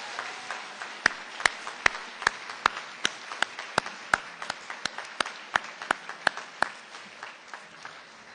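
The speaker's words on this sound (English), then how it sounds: "Let's give them a big round of applause," Audience at an awards luncheon breaks into sustained applause, a steady wash of many hands with a few sharp, loud claps standing out in a regular rhythm near the microphone before the clapping thins out at the end.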